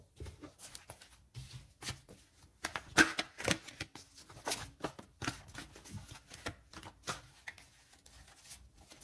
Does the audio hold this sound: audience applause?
no